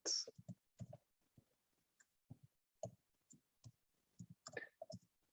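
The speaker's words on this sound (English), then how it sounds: "So I'll type and stop talking for just a second." Typing on a computer keyboard, a run of distinct close clicks in an irregular rhythm with short pauses between keystrokes.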